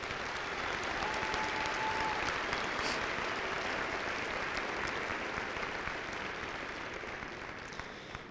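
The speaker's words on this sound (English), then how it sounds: "Let's give them a round of applause." A graduation audience at Liberty High School in Colorado Springs applauds the class of 2018 with a dense, steady wash of clapping that holds at full strength for about eight seconds before easing slightly at the end.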